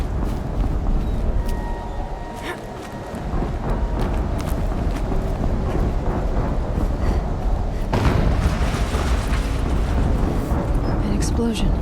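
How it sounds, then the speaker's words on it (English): An explosion in the Horizon Zero Dawn video game brings a broad, rumbling roar that swells into a heavier burst partway through and then keeps rolling on as dense noise. "An explosion."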